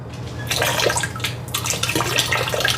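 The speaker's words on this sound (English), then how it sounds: "So now we're gonna take a little bit of this bleach and pour it in there." Bleach is poured into a container in a short, splashy, trickling stream, with uneven gurgling bursts close by.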